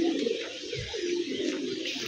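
Young pigeons give low, throaty coos close by, a few soft repeated calls over a faint steady background.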